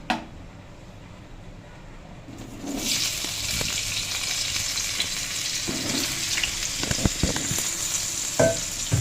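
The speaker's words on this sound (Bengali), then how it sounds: "আলু ছেড়ে দিয়ে এবার আলুর সাথে ফোড়নটাকে ভালো করে নাড়াচাড়া করা হচ্ছে" Potatoes dropped into hot oil with whole cumin seeds and bay leaf, bursting into a loud, steady sizzle after a quiet start, with scraping stir noises throughout.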